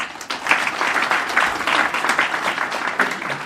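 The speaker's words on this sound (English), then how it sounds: "So kindly join me to give a hand of applause to him and Mr. Paul Gadesha Mohoho" An audience at a formal dinner in Kenya applauds in a moderate, steady wash of clapping that swells slightly and carries on throughout.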